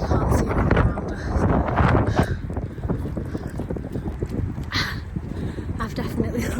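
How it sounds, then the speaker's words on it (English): Strong wind buffets the microphone on a foggy hilltop hike at Blackstone Edge, a loud continuous roar with gusts throughout, and people talk under it. "The fog and the wind is crazy."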